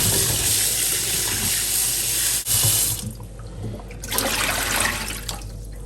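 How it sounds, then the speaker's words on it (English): Tap water running steadily into a sink as green chili sauce ingredients are washed, a loud close rush that briefly drops out and softens partway through, with no talk. "Very important to wash all your ingredients thoroughly using some vinegar as well."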